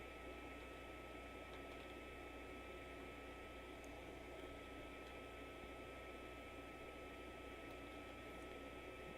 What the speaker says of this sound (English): It's my 3D printer and my heater probably.